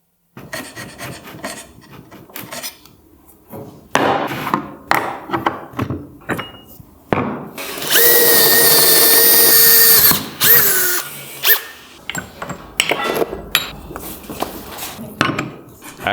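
Hand scraper rasping across the cast-iron column of a hobby milling machine in a workshop, in close, repeated scraping strokes with a longer, steadier scraping stretch in the middle.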